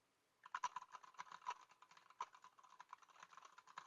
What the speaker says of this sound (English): So you can hear how that sounds kind of typing in the background.